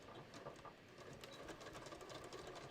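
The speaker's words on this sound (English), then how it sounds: "I'm literally just going to sew up one side" Stitching up one side of a beach tote, a sewing machine hums quietly and steadily throughout, a faint, even mechanical purr.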